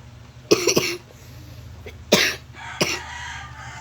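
Three harsh coughs, close and loud, separated by short pauses over a faint steady hum.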